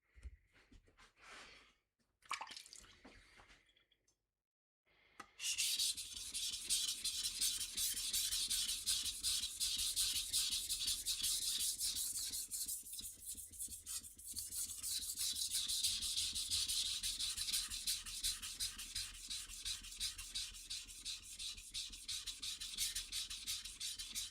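A blade bevel ground by hand on a 400 grit sharpening stone: after a few brief scrapes and a pause, steady rhythmic rubbing strokes go on close and unbroken.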